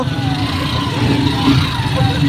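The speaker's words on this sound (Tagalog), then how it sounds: "Uy, may sumikit pang truck guys" Heavy road traffic in Tarlac with a large truck rumbling past nearby, low engine drone and whining tones over constant street noise.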